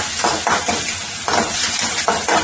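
Chopped onions sautéing in hot oil for chicken momos, loud and close, with rhythmic bursts of stirring and scraping every second or so over a constant sizzle, and no voices.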